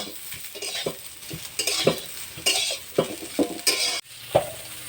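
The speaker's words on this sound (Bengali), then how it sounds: "এই ফুলকপিটা আমি ভেজে নেব আমি লবণ দিলাম আর একটু হলুদ দিয়ে দিচ্ছি দিয়ে এটা ভালো করে আমি ভেজে নেব" Cauliflower pieces fry with salt and turmeric in a pan, a utensil stirring and scraping in repeated strokes over a soft, steady sizzle, close and fairly quiet, with no voices.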